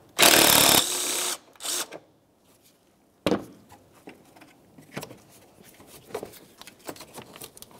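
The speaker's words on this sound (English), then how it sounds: "Remove the bolt and set this aside as well." Power tool driving out an 8 mm bolt on a power steering reservoir of a 2003-2011 Mercury Grand Marquis: one loud close burst of whirring followed by a shorter one, then scattered clanks and taps from handling parts.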